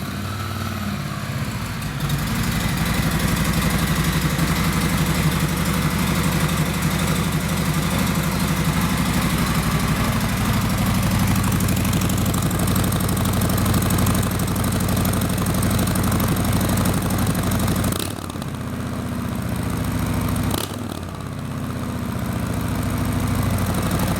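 A cold Harley-Davidson Softail Sport Glide with medium-tab pipes fires up and settles into a loud, rumbling idle, a deep steady throb close by that briefly dips twice near the end before resuming.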